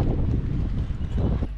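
Strong wind of about 17 knots blows across a sailboat at sea, a steady, loud low rumble of wind buffeting the microphone throughout, with no voices.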